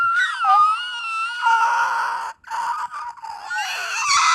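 A person screams in long wavering wails, imitating a siren winding down and dying, with breaks and rising pitch sweeps, loud and close.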